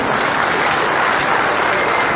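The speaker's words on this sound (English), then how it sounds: "That deserves applause." A forum audience breaks into sustained applause for a praised central bank governor, a dense, steady wash of many hands clapping close and loud with no voices over it.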